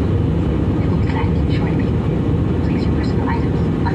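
Inside an airliner cabin during landing, a loud, steady engine and airflow roar fills the space with little variation from start to finish.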